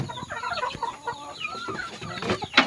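A Burmese hen clucking close by among her young chicks, soft repeated clucks mixed with faint chick peeps and light rustling.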